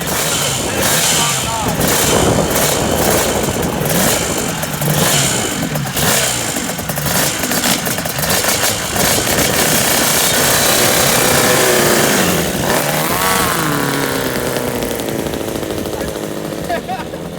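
Custom Kawasaki four-cylinder motorcycle engine firing up and revving hard through its exhaust, a loud, dense, continuous roar with rapid pulsing that stays intense throughout.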